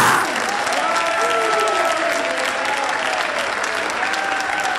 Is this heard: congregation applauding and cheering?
yes